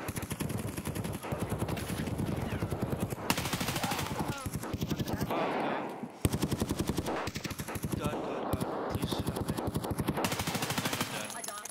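Rapid automatic gunfire in the shooter game Escape From Tarkov, long close bursts of shots with a brief pause midway, loud and dominant.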